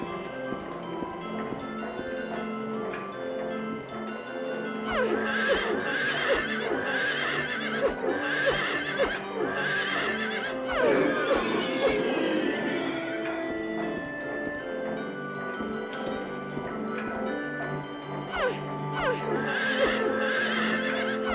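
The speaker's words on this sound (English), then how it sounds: "horse is moving." Horses whinny repeatedly over a soft clip-clop of hooves in Silent Hill 3, the neighs rising and falling in bursts over a quiet ambient backdrop.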